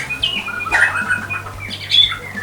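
A white-rumped shama (murai batu) calls close by with sharp, high chirps and whistles in short bursts, over a low background hum.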